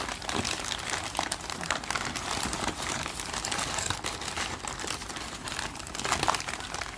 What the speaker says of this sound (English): So let's unwrap.